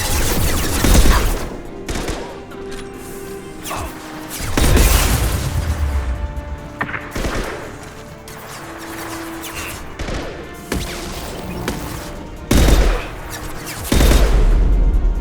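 Rifle gunfire in Mass Effect 2 combat, bursts and heavy booming shots scattered across the stretch with explosions between, loud and close.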